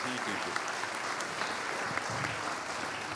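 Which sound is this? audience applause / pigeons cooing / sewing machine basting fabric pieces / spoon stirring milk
audience applause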